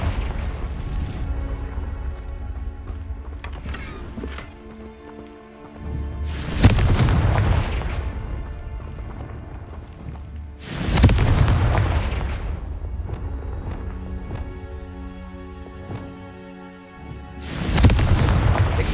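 Confringo blast spells go off in Hogwarts Legacy as three heavy explosive booms, each with a sharp attack and a long rumbling decay, spaced several seconds apart over a low ambient game-music bed.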